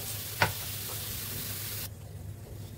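Curry leaves and paneer hitting hot oil give a steady broadband sizzle with one sharp crackle near the start; the hiss drops abruptly and gets quieter toward the end.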